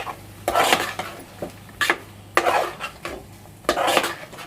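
A spoon stirs thick stuffed brinjal curry in a metal pot, scraping and clanking in four or five separate bursts with quiet pauses between.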